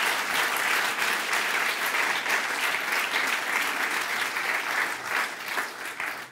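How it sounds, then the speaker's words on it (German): A comedy audience breaks into applause, dense continuous clapping that stays steady for about six seconds before easing off near the end. "Ach, mal einen Applaus."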